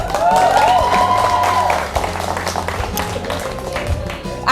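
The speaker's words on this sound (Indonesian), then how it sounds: "Tepuk tangan dulu." Applause from a lecture audience at an entrepreneurship talk, a loud broad wash of clapping that starts at once and holds steady for several seconds with voices mixed in, then tapers off.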